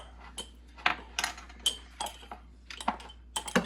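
A metal tablespoon stirring sourdough starter in a container, producing soft irregular clinks and scrapes, close and fairly quiet, in short bursts over a low steady background hum.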